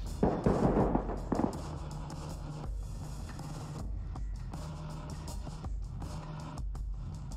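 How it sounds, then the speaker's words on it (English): A flashbang grenade goes off in the tactical shooter game Ready or Not, a loud sharp burst with a crackling tail followed by a lingering low rumble, with no talk. "Got a flashbang out."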